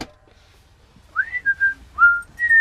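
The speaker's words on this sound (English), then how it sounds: "Did you whistle at me, man?" Someone whistles nearby in a short series of clear rising-then-level tones, four or five bright notes in a row, loud and alone against a faint low rumble.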